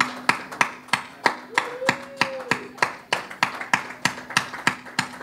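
A crowd at an art unveiling claps in slow, evenly spaced unison, loud and close, with a single beat roughly every third of a second and a brief whistle-like tone partway through.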